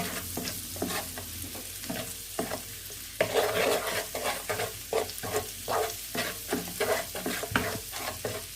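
Ingredients stirred in a pan as butter and a stock cube melt, a busy close sizzle with rhythmic spatula scrapes and clatters throughout, growing louder midway.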